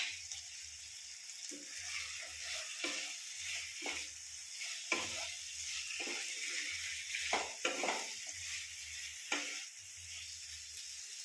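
Shelled green peas fry in a pan for a Bengali vegetarian shukto, a soft continuous sizzle broken every second or two by the scrape and clatter of a spoon stirring them against the metal.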